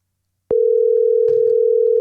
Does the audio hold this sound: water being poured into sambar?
no